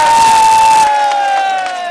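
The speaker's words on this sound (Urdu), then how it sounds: "آؤ بھائی, اس کو ایک دفعہ اس کے لیے تالی بجا دو" A political rally crowd cheers and claps loudly for a brief moment, a dense roar that cuts sharply and leaves a fading ringing tone behind.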